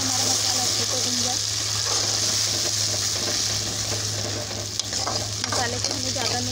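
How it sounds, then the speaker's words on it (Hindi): Masala sizzles steadily in a pan for a matar curry, a continuous loud frying hiss with scraping stirs through it and a low hum underneath. "मसाले को हमें ज़्यादा नहीं भूनना है,"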